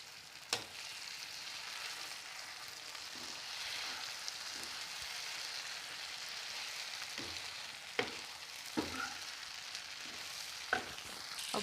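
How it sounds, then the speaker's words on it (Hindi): Chilli potatoes being mixed with sauce in a pan give a steady sizzle and frying hiss, with occasional clacks of the spoon against the pan. "और इस घोल को हम चिली पोटैटो पर डाल देंगे और मिक्स कर देंगे।"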